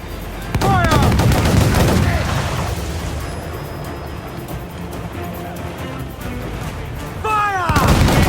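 Ship cannons in Assassin's Creed 4 Black Flag boom in loud volleys at the start and end of a naval battle, with shouted crew orders and a rumbling sea-battle din in between.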